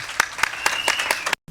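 Sharp bursts of applause ring out at the inauguration of a water tower in Songon, Côte d'Ivoire, with rhythmic clapping repeating about every quarter second before cutting off abruptly.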